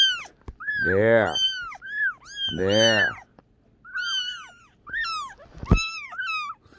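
Several small kittens meow loudly and repeatedly in high, rising-and-falling cries, with a few longer wailing calls among shorter ones, close by, while a person speaks briefly.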